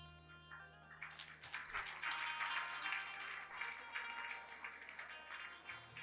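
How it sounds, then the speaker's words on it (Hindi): An audience at a religious discourse breaks into applause, a steady crackling wash of many hands clapping that starts after a second and holds throughout, heard from a moderate distance. "तालियां खुशी में बजी हैं।"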